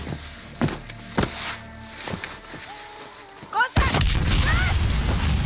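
Explosion in the Call of Duty Modern Warfare video game during a tunnel collapse: scattered impacts and thuds lead into a sudden loud blast that rumbles on, with speech-like sounds heard before it.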